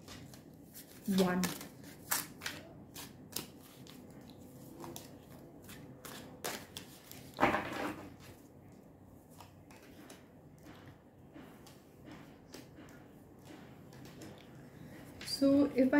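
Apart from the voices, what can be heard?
pulling cards for a tarot reading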